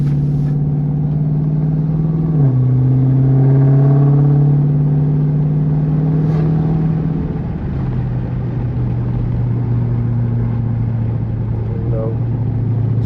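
A cammed 2016 Dodge Challenger R/T with a 5.7 V8 and straight pipes cruises along, its low droning exhaust steady throughout with a brief throttle rise and shift, close and loud, mixed with some in-cabin noise.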